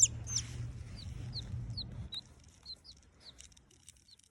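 A chicken in a backyard gives a few sharp clucks, then a series of short high calls repeats at an even pace, close and fairly faint, with no talk.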